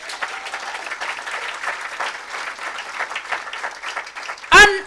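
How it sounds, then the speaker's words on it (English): An audience at a climate justice summer school in Nairobi keeps up a steady round of applause, dense and fairly loud, with a brief louder knock near the end. "please applaud yourself"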